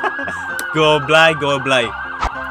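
A wailing emergency siren sounds from a strobe-equipped car in a Roblox driving game, its rising and falling tones loud and close, cut by a sharp click near the end, while a voice speaks briefly over it.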